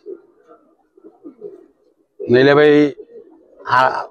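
Giribaz pigeons coo softly in short, faint murmurs in the background, while someone speaks loudly in two brief bursts over them.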